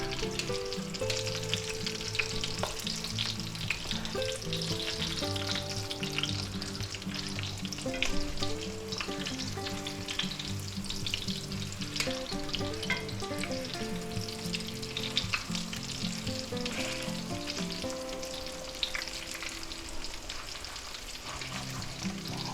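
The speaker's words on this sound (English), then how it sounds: "They're very thin, and it won't take long for them to cook in that hot oil" Thin beef milanesa steaks fry in hot oil with a loud, continuous crackling sizzle that holds close and steady for a long stretch, with no one speaking.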